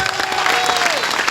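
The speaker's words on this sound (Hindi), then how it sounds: "तालियां बनती हैं भाई साहब" An audience claps for a speaker at a motivational session in Agra, a dense burst of applause with a sustained tone running beneath it for the first second, fairly loud and close.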